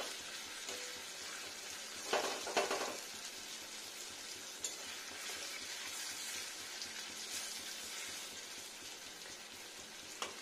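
Papaya pieces frying slowly at low heat in a pan give a steady, close hiss of sizzling oil, with a couple of brief louder crackles and scrapes partway through.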